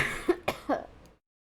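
Three quick, sharp coughs in a row, close and fairly loud, then silence.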